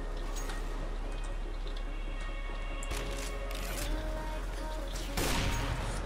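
Gunfire in CS:GO, scattered sharp shots over a steady game background, with a louder cluster of shots near the end.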